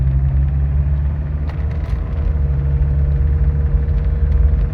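A 1994 Saab 900 Turbo Convertible with an automatic transmission driving along, a steady low engine rumble and road noise heard from inside the car, close and continuous.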